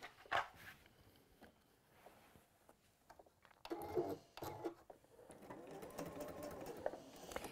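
A home sewing machine stitches fabric down in short runs and then a longer, steadier burst, mechanical whirring that stops and starts, close and fairly quiet, with no talk.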